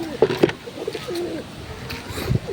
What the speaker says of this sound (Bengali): সব ছাড়া আছে পায়রা